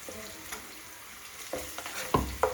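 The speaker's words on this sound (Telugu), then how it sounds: "2 టేబుల్ స్పూన్స్ ఆఫ్ అల్లం వెల్లుల్లి పేస్ట్ వేస్తున్నాను" Ginger garlic paste, two tablespoons, frying in a pan as the base for a korrameenu fish curry: a steady faint sizzle with a few louder stirring scrapes near the end, no voices.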